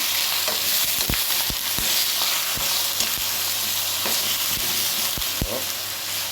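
Beef strips sizzle and fry in a hot pan, a constant bright hiss broken by repeated sharp knocks and scrapes of stirring, up close with no talking.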